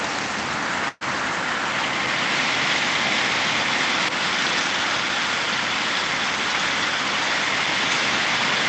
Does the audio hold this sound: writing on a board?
no